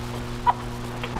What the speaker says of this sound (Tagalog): Matapang itong manok mo, ha?